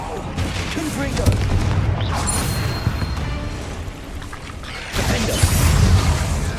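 Confringo fire spell blasts in Hogwarts Legacy burst out amid ongoing combat noise, with a couple of sharp impacts and a loud surge near the end, while a voice speaks over the fight.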